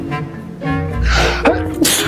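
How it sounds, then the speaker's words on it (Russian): An elderly woman sneezes loudly, one forceful burst with a sharp intake and blast, close to the microphone with no other sound around it. "Бабушка все время громко чихает."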